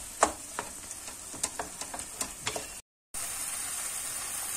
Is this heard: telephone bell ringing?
no